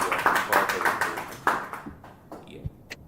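A small scattered patter of hand clapping follows a webinar presentation, thin and close, with a few quick claps trailing off over about three seconds.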